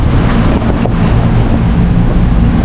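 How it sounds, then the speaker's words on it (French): A strong headwind of about 24 to 29 knots hits a sailboat under way off Port-Camargue. The loud, steady roar of wind buffeting the microphone mixes with rushing water and fills the whole stretch. "On a le vent dans la gueule."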